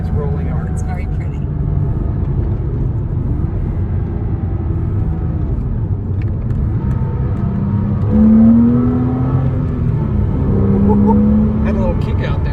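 A Porsche 987 Cayman S heard from inside the cabin as the engine drones steadily, then rises in pitch as it accelerates, with people talking over the engine.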